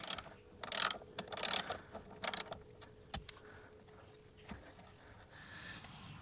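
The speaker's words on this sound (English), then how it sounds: "This is the 19mm nut, so we'll crack that off with a ratchet." A ratchet cracks loose the 19mm steering wheel nut on a Nissan X-Trail, giving several sharp, close clicking bursts early on, then a few isolated clicks fading into quiet.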